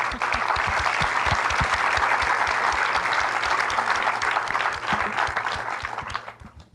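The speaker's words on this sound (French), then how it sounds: "on peut déjà les applaudir" An audience at a French panel on the digital future of democracies gives loud, sustained applause with dense clapping throughout, which fades out toward the end.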